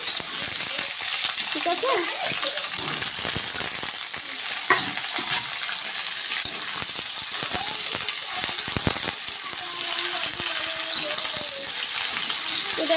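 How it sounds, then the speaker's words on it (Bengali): Potatoes and pointed gourd sizzle and crackle steadily in a pan of oil, a continuous close frying hiss with occasional clinks and stirring, while someone speaks briefly now and then. "তো দেখো আলু আর পটলটা একটু ভালো করে ভেজে নিচ্ছি"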